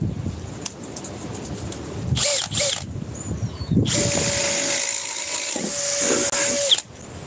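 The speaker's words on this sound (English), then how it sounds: "Let's do the 3/4 inch. Running an M18 non-fuel." A Milwaukee M18 non-fuel 3/4-inch power tool whirs in short bursts, then runs steadily for about three seconds with a sustained mechanical tone, loud and close.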